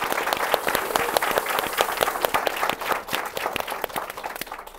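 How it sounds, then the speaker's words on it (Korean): An audience at a Daegu education talk event claps in a round of self-congratulating applause, a dense, steady patter of many hands that carries on evenly for several seconds before starting to thin. "우리 모두 수고했다는 의미의 박수, 자축의 박수 한번 보내주시기 바랍니다"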